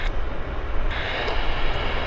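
Frecce Tricolore aerobatic jets at Vancouver Airport make a steady, broad engine roar throughout the short stretch, with no voices.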